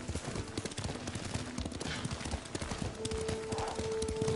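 Hooves clip-clop steadily as a horse is ridden in the Ghost of Tsushima video game, a quick rhythmic trot set against outdoor ambience, with a sustained tone entering near the end.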